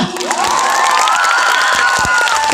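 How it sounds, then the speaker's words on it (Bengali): A crowd at an outdoor comedy show on a cold night cheers and claps steadily, with shrill voices and a rising whistle-like tone riding over the dense, loud roar. "সবাই একটা হাততালি দিবেন না"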